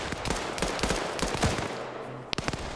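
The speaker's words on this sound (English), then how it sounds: "We're seeing some gunshots go." Bursts of gunfire crackle in a multiplayer military shooter game match between cartel and police teams, rapid distant-to-mid volleys in the first half, then quieter with one sharp crack near the end.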